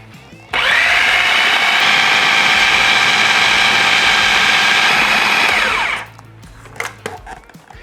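A food processor purees a sweet potato casserole mixture on low speed, a loud, steady motor whir that starts abruptly, holds for about five seconds, then winds down and stops.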